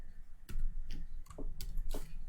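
Keys clicking on a computer keyboard while code is written, a few separate, fairly close presses in an irregular rhythm over a quiet background.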